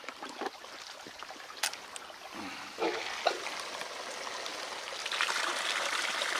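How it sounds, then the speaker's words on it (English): A small pump on a model RC dragline mining excavator runs water, giving a gentle trickling, streaming flow that builds slightly toward the end, with a few faint clicks and knocks nearby. "All right, let's fire up"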